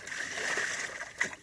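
Creek water splashed and sloshed over a fishing boat as it is washed, a soft continuous spattering rush with a sharper splash near the end, fairly close.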